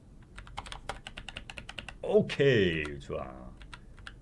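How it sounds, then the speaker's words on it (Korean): Rapid clicking of computer keyboard keys while steering a car simulation in Unity, a quick run of close, light taps, followed by someone speaking briefly. "키보드로 이런 세밀한 컨트롤이 힘들어서"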